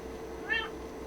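A cat gives a single short meow, close and clear, rising briefly over a quiet indoor background.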